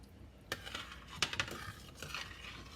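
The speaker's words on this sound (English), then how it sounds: "Stir it up good, make sure there's nothing sticking on the bottom." A spoon stirs macaroni in a metal pot of water just starting to boil, giving faint close scraping and a few clinks against the pot in an irregular rhythm, with no talking.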